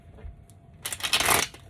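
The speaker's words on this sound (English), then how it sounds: "I'm gonna shuffle this deck" A deck of tarot cards being shuffled close up, one short crisp riffling burst after a moment of near silence.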